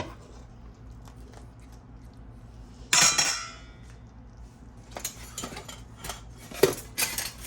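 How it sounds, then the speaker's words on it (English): Black kitchen utensils rattle and clink as someone rummages through them at home while cooking, with a loud burst of clattering near the three-second mark, then scattered knocks and clinks close by. "Trying to find my black utensils here."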